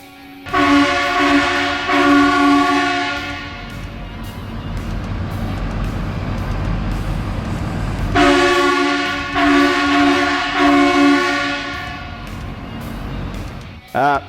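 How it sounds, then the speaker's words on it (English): Two long, loud blasts of multi-tone train horns fitted to a Ford F450 Platinum dually truck, separated by a stretch of engine rumble. "it allowed us to fit a couple of train horns as well"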